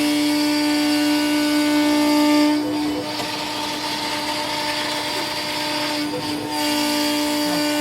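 A BuildBotics CNC machine spindle runs steadily while cutting a shallow 2 mm pass, giving a continuous tonal whine with a faint hum and a brief dip in level partway through, heard alone without voices.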